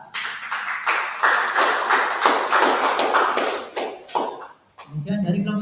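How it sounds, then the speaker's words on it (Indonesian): Classroom applause for a student group, a burst of quick, close, rapid claps that stops abruptly, followed by a voice speaking. "Berikan tepuk tangan untuk kelompok 2."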